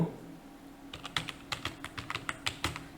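Someone types on a computer keyboard while entering text into Excel cells. After a quiet second, a quick, irregular run of about fifteen crisp, close key clicks follows, with no talking.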